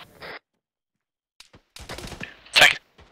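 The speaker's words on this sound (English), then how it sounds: "Take some sporadic gunfire." Scattered gunfire in the military game ArmA 3: a short burst early, then faint isolated shots and a loud close crack near the end, with quiet gaps between.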